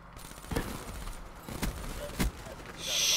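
Gunfire in Black Ops 3 multiplayer on the Verge map from the Eclipse DLC: three short, sharp shots spaced about a second apart over a low, steady bed of game ambience.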